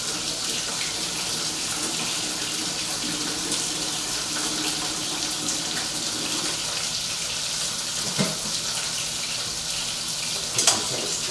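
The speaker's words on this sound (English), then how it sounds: "I'm going to rinse it in some good cold water." Cold tap water running steadily into a kitchen sink to rinse cooked broccoli, a constant hiss and splash with a couple of brief clatters near the end, fairly quiet and without talk.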